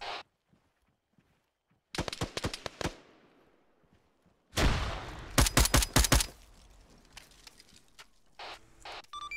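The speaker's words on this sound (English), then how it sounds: "we're taking fire between me and you" Gunfire in a combat firefight, with two sharp bursts of rapid shots, each a close cluster of loud cracks and echoing tails, separated by quieter stretches of scattered noise.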